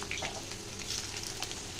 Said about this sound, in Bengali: তো একসঙ্গে ভাজা হয়ে যাবে আলু আর পেঁয়াজটা